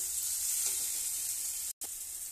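Tomatoes hiss and sizzle in hot oil in a pan with a pinch of turmeric, pressed and mashed as they cook down, giving a steady close frying crackle that cuts out briefly near the end.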